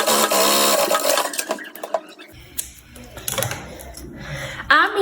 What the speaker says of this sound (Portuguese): E eu vou passar uma costurinha agora aqui na pontinha dela.